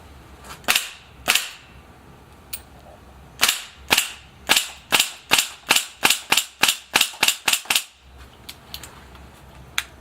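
A DG SA85 gun fires on semi-automatic during a function test, giving a run of sharp, loud, close individual shots, a few spaced at first and then a quick steady series of about a dozen before stopping.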